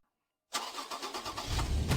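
A car engine cranks to life after half a second of silence, then settles into a steady, fairly loud rumble that builds slightly toward the end.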